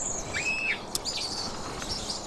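Startled birds chirp and flap their wings close by in a garden, several short tweets and wingbeats scattered over a steady outdoor background, with no talking.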